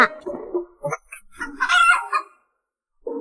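A rooster gives one loud, close crow with a strained, rising middle, preceded by a few scattered clucking sounds and then a short pause.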